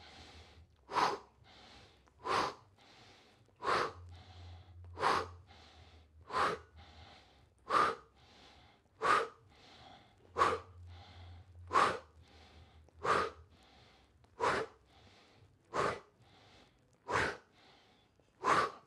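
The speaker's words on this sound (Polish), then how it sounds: "Wdech rozszerza dolne żebra, wydech powoduje, że brzuch ma za zadanie się ścisnąć." Slow, deep breaths from a breathing exercise repeat steadily for the whole stretch, each sharp audible inhale or exhale spaced about a second apart, close and alone.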